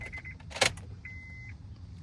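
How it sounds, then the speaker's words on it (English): A Honda Accord's electric fuel pump priming after the ignition is switched on: a few faint clicks and a small thud, then a thin steady whine lasting about half a second, quiet and close. "let the fuel pump prime a second."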